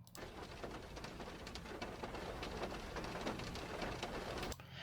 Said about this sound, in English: So here's just the rain sound that is just in the car